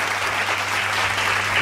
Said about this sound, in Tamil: கைத்தட்டுங்க, கைத்தட்டுங்க.